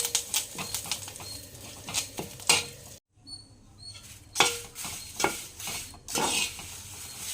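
Curry leaves frying in a pan, crackling and rustling with intermittent stirring scrapes, a brief quiet pause midway, close and fairly soft with no talking.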